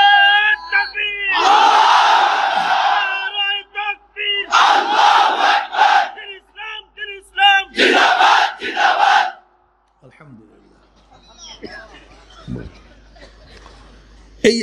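A large crowd at an Islamic sermon (waz) shouts in loud unison, with several long chanted bursts separated by brief pauses, then fades to scattered quieter voices and murmurs.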